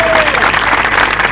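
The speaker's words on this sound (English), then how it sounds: "please join me in a nice round of applause for our welcome from the City of Winterset" An audience gives a welcoming round of applause for the mayor of Winterset at a John Wayne 100th birthday event, dense steady clapping close by.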